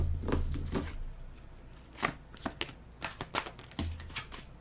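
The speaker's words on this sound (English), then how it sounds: "Oops, I think we'll shuffle these because I aren't shuffled properly." Tarot cards shuffled by hand at a table, a run of soft riffling bursts and sharp flicks of card stock, some spaced and uneven, fairly close and quiet with no talking.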